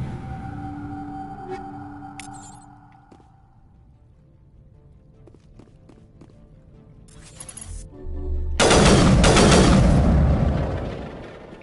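Game gunfire in Mass Effect Legendary Edition comes as scattered sharp shots and mechanical clicks over a fading hum, then a long, loud, continuous burst of blasting near the end.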